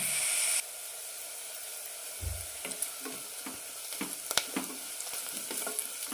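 Onions fry in a pan with turmeric and chili powder for a vegetable kurma. A dense, hissing sizzle runs throughout, broken by frequent small stirring scrapes and taps, close up and without speech.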